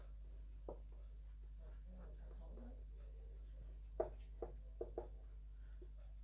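Pen or chalk writing out a sentence by hand, faint scratchy strokes with a few sharper taps near the end over a steady low hum, no talking.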